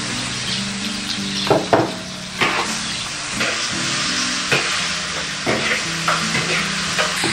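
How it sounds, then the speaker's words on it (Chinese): Fatty pork belly is stir-fried in a wok with caramelized rock sugar syrup, a loud close sizzle broken by repeated scraping strokes of the spatula against the metal, with no voices. "我们就可以倒入五花肉，边炒。"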